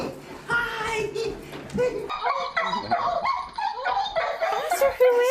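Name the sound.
dog whimpering and barking in a played video of a returning soldier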